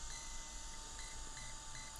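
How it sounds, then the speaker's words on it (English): Steady electronic beeping from a brushless ESC being programmed on a Bullet Flux model, faint, regular tones over a constant hum with no talk. "So you hear the long beep and 3 short beeps."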